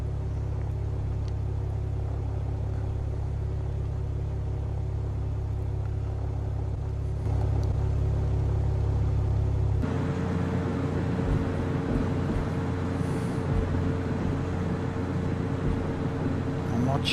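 A Mooney Bravo light aircraft taxis toward runway 13 in Flight Simulator X, its engine giving a steady, droning hum. Partway through, the hum shifts to a rougher, busier rumble and then runs on evenly.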